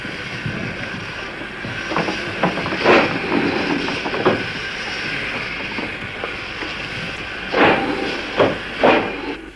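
An old steam engine on a preserved railway line hisses steadily, with a few rhythmic chuffs and rail clatter rising and falling over continuous background noise, no voices.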